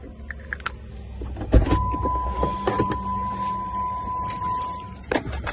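A car's electric power windows run down in a long steady whine of about three seconds, close by inside the cabin, with a few small clicks and knocks before and after.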